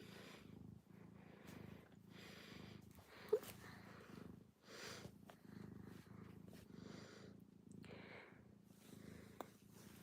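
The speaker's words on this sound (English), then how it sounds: "You guys get a cat cam." Close-up cat purr with a soft, rhythmic rumble that rises and falls with each breath, steady and quiet, broken by a couple of small clicks.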